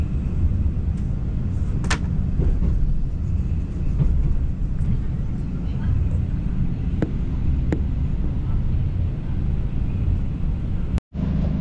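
A steady low rumble of a train in Malaysia rolling along the tracks, with faint clicks and knocks over the continuous drone.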